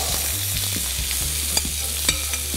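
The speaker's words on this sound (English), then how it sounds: "these almonds are just white almond flakes into a little bit of olive oil, and we're just tossing it around a little bit" White almond flakes tossed in a little olive oil in a hot pan, a steady close sizzle with light clicks and scrapes of stirring.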